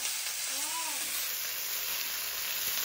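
Tree flowers fry in a hot pan with a steady, loud sizzling hiss that stays constant throughout, with a brief voice-like tone near the start.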